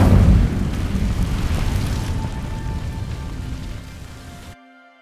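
An Incendio fire spell in Hogwarts Legacy bursts against dry vines with a loud whooshing ignition, then a steady crackling, hissing burn that slowly fades before cutting off.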